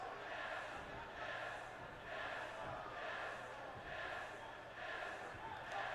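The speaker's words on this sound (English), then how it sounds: "Crowd's happy to see this too." Crowd cheering in the WWE 2K19 wrestling video game, a steady, moderately distant wash of arena noise that swells and eases in gentle waves.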